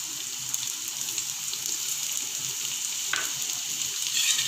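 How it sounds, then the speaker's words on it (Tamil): Steady, close sizzling of chopped onions frying in hot oil, a continuous crackling hiss with a brief stirring scrape near the end. "நம்ம பொடியை நறுக்கி வச்சுருக்கக்கூடிய வெங்காயத்தை அதில் சேர்த்துருங்க."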